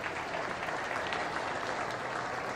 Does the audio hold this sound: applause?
yes